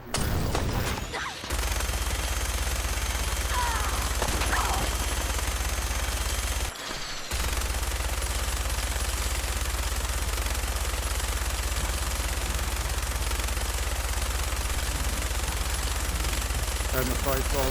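Gunfire in Fallout 4 in Survival mode, loud and steady bursts of shots running almost throughout, with a brief pause partway, over a constant low rumble and some game voices.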